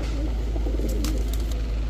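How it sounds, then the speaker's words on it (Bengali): Domestic pigeons for sale, including a capped male, cooing softly in a few low rolling calls close by, over a constant low hum with some brief high chirps. "দেখেন একদম ক্যাপ চোখের একটা কবুতর"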